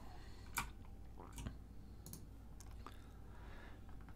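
Faint, scattered clicks and taps from a computer mouse and keyboard, a few sharp clicks spaced irregularly over a quiet room background.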